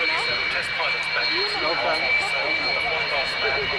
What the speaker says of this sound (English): While the Sukhoi taxiing out